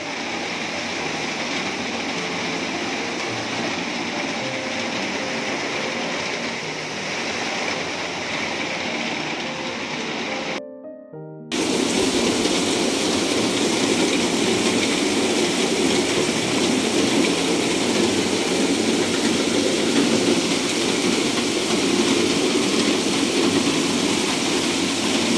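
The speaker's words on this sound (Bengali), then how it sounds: "দেখো ঝমঝমিয়ে নামলো কিন্তু আবার বৃষ্টি।" Heavy rain pours down in a loud, continuous broadband roar that drops out for about a second and then returns even stronger.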